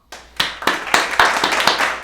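Hand clapping, about eight sharp claps in an uneven rhythm over two seconds, close and fairly loud, with no talk.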